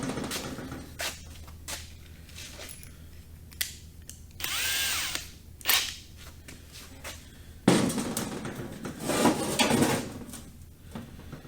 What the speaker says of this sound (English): I think I can just drill straight down through them.